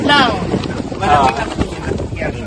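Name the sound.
wind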